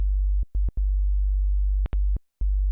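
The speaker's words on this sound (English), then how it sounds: "Standard sub bass, not bad." Standard sub bass from a SunVox analog generator synth set to a sine wave, sounding as a steady deep hum broken by several short gaps and brief clicks.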